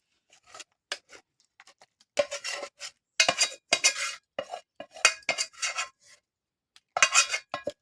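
Cooked drumstick-leaf vegetable is scooped out of a pan onto a plate, with a spoon giving intermittent metallic scrapes and clinks in short, irregular bursts separated by quiet gaps.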